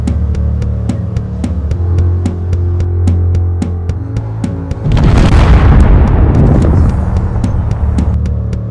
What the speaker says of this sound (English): The first iteration of the Foundry was obliterated by a Ravager torpedo.